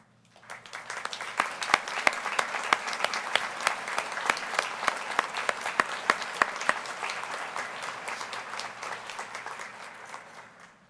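Audience applause fills a commencement ceremony hall as award-winning graduates stand, steady dense clapping from a large crowd that swells in and holds for about ten seconds before tapering off.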